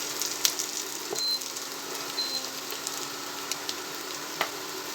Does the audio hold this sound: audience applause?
no